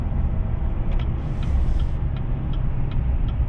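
A lifted 2021 GMC Sierra 1500 AT4 pickup with a 2-inch lift kit and Fuel wheels accelerates, its engine a steady low-pitched roar heard up close, with light ticking and a brief hiss over the top.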